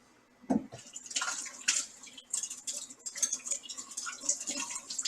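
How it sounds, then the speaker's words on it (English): Tap water runs over peppers being rinsed in a kitchen, with a steady splashing hiss broken by irregular clunks and drips as the vegetables are handled, fairly close and with no talk. "get a nice rinse going"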